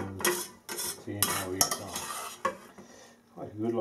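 Cooked spinach spooned and plonked into an ice cube mould, a run of soft wet clatters and scrapes of a spoon against the tray, close up and in bursts with short pauses.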